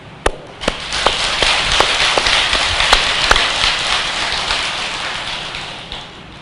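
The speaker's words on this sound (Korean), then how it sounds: "저는 여러분들한테 찬탄의 박수를 전합니다" An audience of temple-goers applauds during a Buddhist dharma talk at a Seoul temple, with a dense, even crackle of clapping that starts with a few sharp claps, swells, then gradually tapers off, and no voices.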